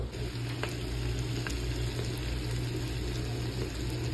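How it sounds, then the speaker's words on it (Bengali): A pot of pilaf and goat meat cooks for an Eid meal, giving a quiet, steady sizzle and bubble with a low hum underneath and no talking. "আমরা আজকে হচ্ছে পোলাও রান্না করতেছি আর হচ্ছে খাসির মাংস।"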